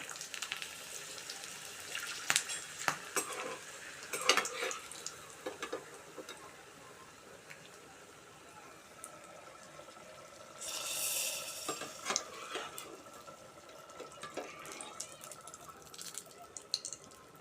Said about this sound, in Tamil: இப்போ நம்ம சுண்டக்காய் வறுத்தலை வறுத்துப்போம் எண்ணெயில் போட்டு